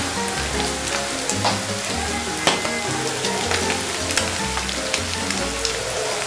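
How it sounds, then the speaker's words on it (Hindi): Mutton with green chillies frying in a pan gives a steady, dense sizzle with crackling pops, close and fairly loud, continuous throughout with no voices. "1 से 2 मिनट इसको हमने एक साइड से पकाना है, फिर हम दूसरी तरफ से इसको पलट के देखेंगे।"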